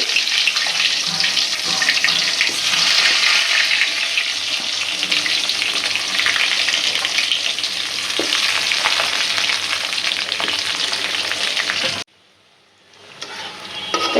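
Frozen snack pieces fry in a pan of oil with a loud, steady, dense sizzle and occasional stirring, broken by a sudden drop to quiet near the end before the frying creeps back in.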